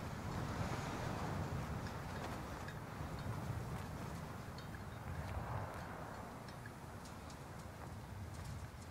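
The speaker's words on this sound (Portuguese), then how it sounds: "Nada além da ventania." Strong wind gusting steadily across an open roadside in Call of Duty Modern Warfare, a constant broad rushing roar with no speech.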